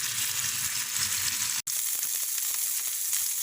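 Seekh kebabs fry in a pan with a steady, close sizzle and crackle, cut by a brief silent gap about halfway through before the sizzling resumes.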